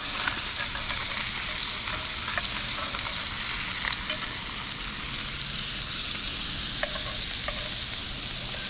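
A fish fries in a pan just after being flipped, producing a dense, steady close sizzle with faint crackles and no break in the sound.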